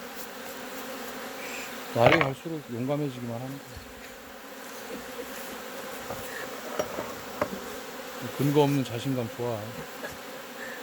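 Honeybees buzz steadily around an open hive during a beekeeping inspection of a mite-damaged colony reduced to three frames. The drone is close and constant, with occasional handling knocks, while people talk over it.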